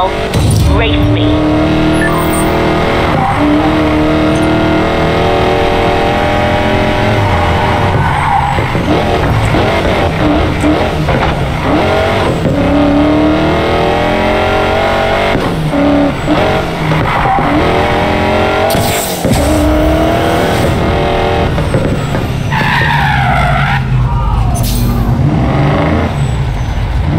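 Race cars in Need for Speed Payback revving hard, with engine whines and tire noise running continuously and loudly throughout, broken by a few sharp bursts, with speech over the top.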